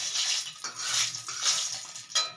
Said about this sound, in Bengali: প্রথমেই তেলে একটু হিং ফোড়ন দিয়ে দেবো